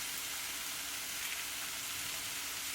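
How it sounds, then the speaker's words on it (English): Steady broadband sizzle of an egg cracked into a hot, high-heat pan beside low-carb fried rice, continuous and close with no talking. "We're gonna crack that egg in there"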